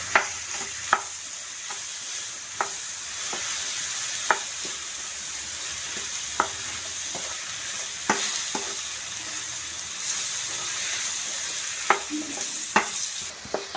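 Chopped ridge gourd with salt is stirred in a pan, with spaced scraping strokes of a spoon over a constant soft sizzle, close and alone without any talking.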